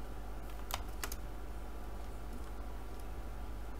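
Quiet typing on a computer keyboard, a few faint clicks and taps over a steady low hum.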